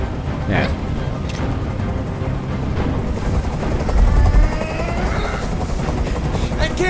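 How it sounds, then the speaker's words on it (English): Steady rumbling helicopter rotor noise from a hovering helicopter in the video game Detroit: Become Human drones throughout, loud and continuous, with voices speaking faintly underneath. "I can't stand that noise anymore. Tell that helicopter to get out of here."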